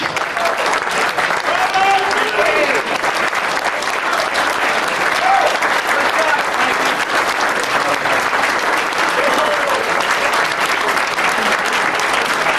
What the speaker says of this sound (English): By all means, standing ovation, please.